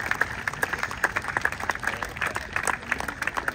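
Crowd at a tennis event applauding the LTA line judges: a brief burst of scattered hand claps, moderately distant and fairly soft, with individual claps standing out.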